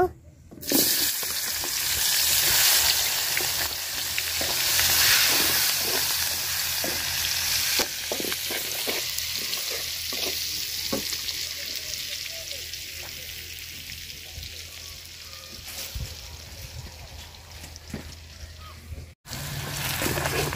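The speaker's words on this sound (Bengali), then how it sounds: "পেঁয়াজ আর মরিচ আমি লাল লাল করে ভাজা নিচ্ছি।" Onion and chili fry in oil left over from frying fish, producing a loud, continuous sizzle with occasional stirring scrapes that slowly softens over about twenty seconds.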